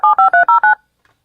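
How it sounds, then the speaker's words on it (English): Five short, loud dual-tone keypad beeps from a telephone being dialed to call back into a live line, pressed in a quick even rhythm over about three-quarters of a second, then silence. "I had to dial back into it."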